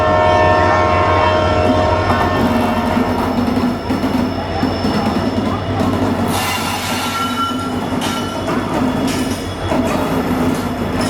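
A train at a railway station rumbles loudly and continuously, with clattering wagons, a steady low drone and faint squeals and brief horn-like tones rising over the noise, close by, with no talk.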